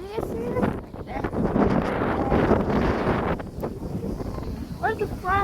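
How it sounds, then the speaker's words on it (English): Strong wind gusts high on a mountain buffet the microphone with a steady, loud roar through most of the stretch, while a person talks briefly over it. "It's so windy."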